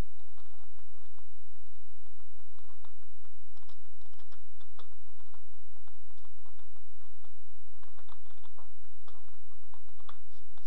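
Someone types steadily on a computer keyboard at close range, with quick, uneven runs of light key clicks over a constant low electrical hum and no voices.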